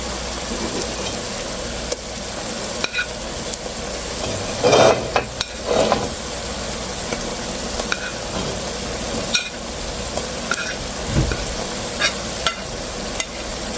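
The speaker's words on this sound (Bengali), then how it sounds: "পিঁয়াজটা ব্রাউন কালার হয়ে গেছে এখন আদা রসুনটা কষিয়ে নেব" Browned onion being sautéed with ginger and garlic in a pan, giving a steady close sizzle with occasional spatula scrapes and stirs, no talking.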